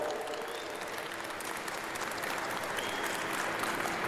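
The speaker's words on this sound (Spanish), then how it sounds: "les pido un fuerte aplauso para nuestro presidente municipal" Steady, fairly quiet applause from an audience for a municipal president at a commemorative public event, a dense even patter of many hands filling the whole stretch with no voices on top.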